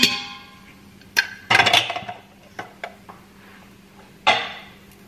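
A spoon stirs chicken fried rice in a pan, producing sharp metallic clangs and scrapes in irregular bursts, several close loud hits separated by quieter gaps.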